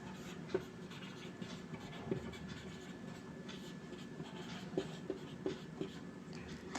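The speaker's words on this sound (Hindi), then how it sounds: "इसके साइड में मैं लिख भी देता हूँ" A pen scratching out notes during a Class 11 economics lesson, soft intermittent strokes and small taps, faint and close under steady room noise, with no talking.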